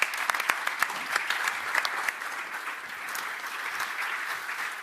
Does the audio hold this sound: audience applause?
yes